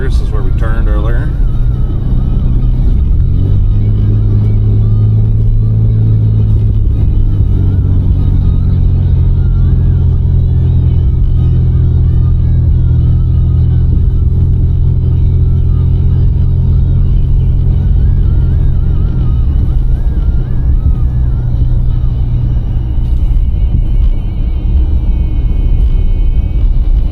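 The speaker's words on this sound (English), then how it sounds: "So we're driving past Coheiser." A car driving along a rural road in winter, its engine and tyres giving a steady low rumble that swells briefly early on and then holds evenly throughout.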